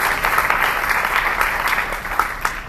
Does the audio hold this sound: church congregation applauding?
yes